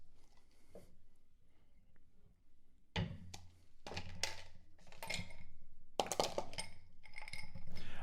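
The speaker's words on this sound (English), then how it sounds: "I'm going to go ahead and add ice into the glass." Ice cubes, four in all, dropped one after another into a rocks glass, each landing with a bright clink and rattle, close up, the later drops louder and busier.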